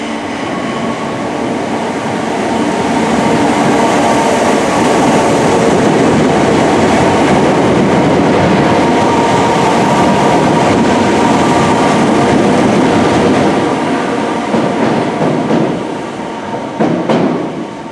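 A Merseyrail electric train passes Green Lane railway station with a loud, sustained rumble and rattling wheels, holding steady then easing off near the end, with faint squeals and no talk.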